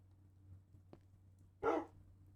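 A dog in a Minecraft game gives a single short, sharp bark, preceded by a faint click, against a quiet low hum.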